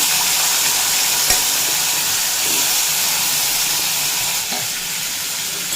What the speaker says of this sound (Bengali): দিয়ে দেড় থেকে দুই মিনিট মতো ভেজে নেব কাঁঠালের বিচিগুলো মিডিয়াম ফ্লেমে রেখে দুই মিনিট মতো